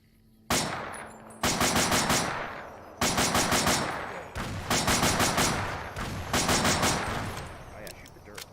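Automatic gunfire from the game Fallout New Vegas, loud close bursts of rapid shots repeating in several long volleys separated by short pauses.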